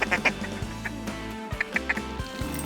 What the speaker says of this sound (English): you can see a duck way off, and these ducks, they just lock up and dive bomb right into the spread